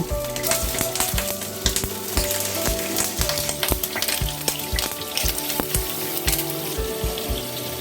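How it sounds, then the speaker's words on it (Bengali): Chital fish pieces fry in a pan of hot oil, a loud, steady sizzle and crackle close by, punctuated by rhythmic pops and spatters throughout. "এবার তেলটা গরম হয়ে এলে মাছগুলো দিয়ে দেব"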